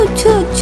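A voice imitates a sneeze, a short sung "achoo" in a Hindi children's rhyme about the first winter rain, brief and close.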